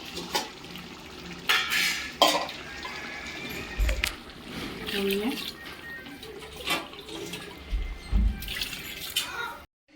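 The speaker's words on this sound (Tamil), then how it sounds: "தேவையான தண்ணி ஊற்றியாச்சு." Water is poured into a pot of country-chicken biryani rice in a home kitchen, a splashing pour with clinks of a vessel and intermittent thuds, while a person talks nearby.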